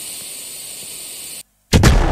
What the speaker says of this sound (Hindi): देखते हैं कितना बड़ा धमाका करेगा ये